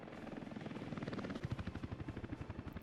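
A helicopter in the game Workers & Resources: Soviet Republic flies past with a steady rhythmic rotor thump that becomes more pronounced partway through, quiet and with no talk.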